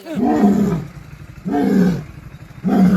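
A lion roars three times in a steady rhythm, each deep, rumbling roar swelling and fading before the next, loud and close with no talk.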